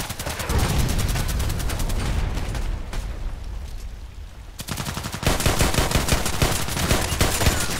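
Long-range rifle fire in the shooter game Contract Wars: dense rapid gunfire bursts fill most of the stretch, with a brief lull in the middle before another sustained volley, loud and close.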